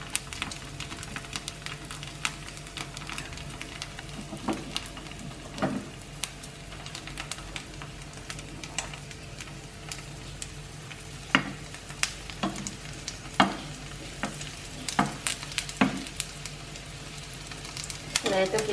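Sausage and egg fry in a pan with a continuous crackling sizzle, scattered sharp pops and stirring clicks rising above it throughout.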